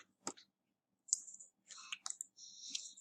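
Computer mouse clicks while inserting an image into a document, a sharp near click followed by quieter clicky taps and faint rustles, with no talking.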